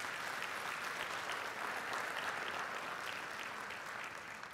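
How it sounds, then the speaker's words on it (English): Dense, even applause from a large audience at a university health sciences graduation ceremony, sustained and fairly distant, fading slightly at the end. "We should give them a round of applause."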